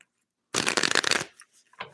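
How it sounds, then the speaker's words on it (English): A deck of tarot cards is shuffled in one brisk burst of rapid riffling flutters, close and crisp, followed by a brief soft shuffle tap and then quiet. "let's get one more shuffle"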